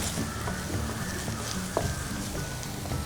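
Onions sizzle and sauté over a high flame in a pan for ginger capsicum fried rice, a steady close crackling hiss with a few soft stirring knocks and no voices.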